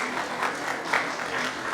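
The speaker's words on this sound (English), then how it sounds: "So please give one rounds of clap." Audience applause in a classroom programming session, a soft, fairly distant patter of many hands clapping evenly for the whole brief stretch.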